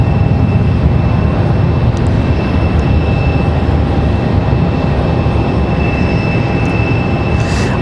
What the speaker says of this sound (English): E175 getting a move on.